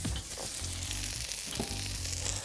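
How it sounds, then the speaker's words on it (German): Grill roulades stuffed with pine nuts, buffalo mozzarella and dried tomatoes sizzle on a hot griddle plate with the grill switched off, a steady close frying hiss with faint crackles throughout. "Also ihr hört es, ja, sie brutzelt immer noch."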